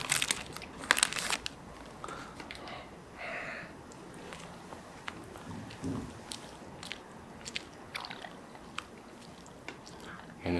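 Someone tears open a wrapped custard snack cake and eats it up close: sharp crinkling of plastic packaging early on, then soft bites and quiet chewing with scattered wrapper rustles, no talking.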